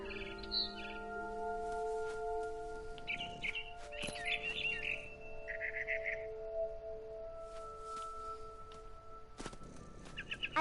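Faint chirps and short trills of a barn swallow in a video game scene, scattered over a soft tonal music bed, with no talk.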